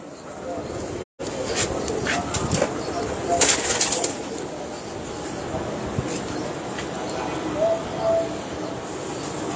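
Soft-feathered breeding pigeons coo in low rolling phrases, with occasional sharper bursts and a brief dropout near the start, while someone talks nearby over them.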